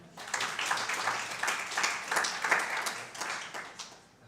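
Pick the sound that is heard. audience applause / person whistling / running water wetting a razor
audience applause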